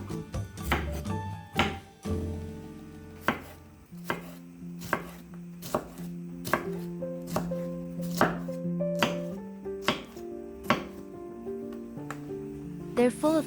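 A knife chops red peppers on a board in a steady series of sharp, close thunks, with pauses between bursts and a spoken voice running underneath.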